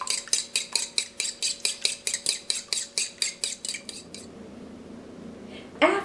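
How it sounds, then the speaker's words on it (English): A utensil whisks egg whites and water in a small bowl, a fast, regular run of about sixteen bright clinks against the bowl that then stops, followed by quiet and one last knock near the end. "add 2 egg whites and 1 tablespoon of water. Stir until well blended"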